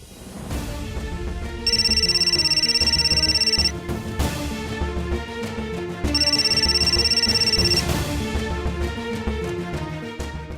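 A telephone rings out during an outgoing call in a Hindi TV drama scene, two long bright electronic ring bursts separated by a pause and laid over a background music score.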